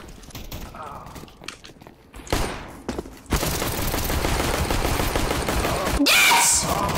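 Gunfire in the video game CS:GO, a dense burst of rapid automatic shots filling the latter half, preceded by a few scattered single shots and quieter footsteps.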